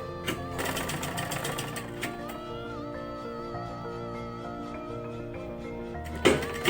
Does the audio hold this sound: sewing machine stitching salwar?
yes